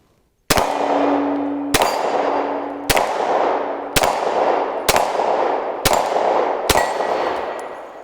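Seven loud, sharp shots from a Glock 23 pistol with a red dot sight at a shooting range, spaced roughly a second apart, each crack ringing out and echoing before the next.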